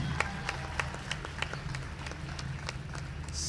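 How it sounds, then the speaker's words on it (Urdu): Applause from an audience at a Pakistani health-related gathering, a steady spread of scattered claps at moderate distance with a low background murmur underneath. "اپنے لیے آپ تالیاں جو ہے وہ ضرور بجا دیں"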